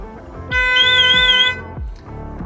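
A Mercedes Sprinter camper's alarm whoops in a rising, warbling electronic siren tone, loud and close, cutting off after about a second amid a few short beeps.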